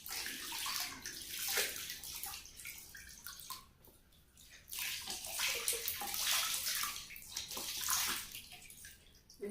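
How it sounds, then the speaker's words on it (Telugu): Feet being rinsed with plain water, a steady pouring and splashing stream that swells and fades in waves, with occasional drips, close and alone. "సో ఇప్పుడు కొంచెం నార్మల్ వాటర్తో క్లీన్ చేసేసుకోవాలండి."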